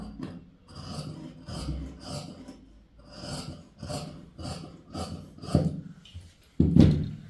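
Scissors cutting blouse fabric on a tailoring table, a series of soft rasping snips in regular strokes, close and fairly quiet, ending with a slightly louder cut.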